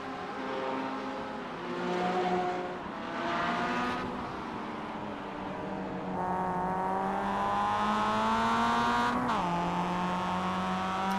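Race cars lapping in the iRacing sim during an endurance event at Daytona, including a Mazda Miata, with steady engine drone and shifting pitch as revs rise and fall, and one car sweeping past near the end.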